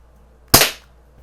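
Single sharp crack of a Daisy BB gun, either the No. 101 Model 36 or the Model 102, fired once in a quiet setting; brief snap with a short decaying tail.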